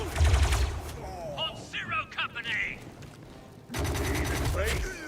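Gunfire in the video game Star Wars Zero Company: loud bursts of rapid shots at the start and again near the end, separated by a quieter stretch of electronic game effects.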